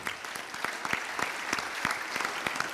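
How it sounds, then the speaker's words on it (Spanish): A church congregation claps during a sermon, a short burst of brisk, fairly close hand-clapping with distinct individual claps in an uneven rhythm. "Dale un aplauso al Señor."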